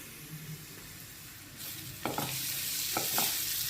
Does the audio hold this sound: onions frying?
yes